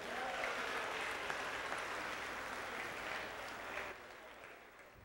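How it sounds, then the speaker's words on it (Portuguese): Audience applause fills a room in a steady dense wash that gradually thins and tapers off toward the end, with no voices on top. "Um aplauso para gostar mesmo."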